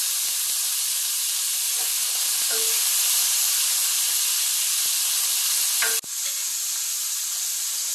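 Herbs drop into a hot pan for braised bison short ribs, raising a loud, steady sizzle and hiss with a few soft stirring clicks, then a brief dip and renewed frying.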